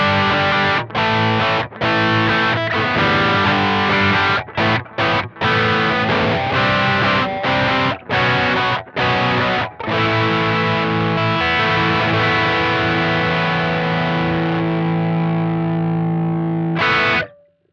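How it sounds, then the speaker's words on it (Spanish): Distorted electric guitar played through TS9 and Archer overdrive pedals stacked together, loud and saturated with chords and sustained notes broken by short pauses, then ringing out and cutting off at the end. "También puedes optar, si querés, por usar los dos overs y usar un TS9 y un Archer juntos,"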